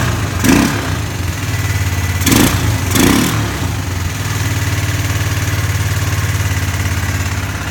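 A Kawasaki Bayou KLF400 ATV engine with a weak battery idles steadily at close range, with three brief bursts of louder noise breaking through early on before the low engine drone settles in.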